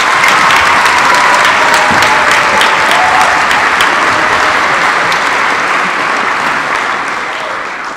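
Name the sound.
audience applause for musicians at string concert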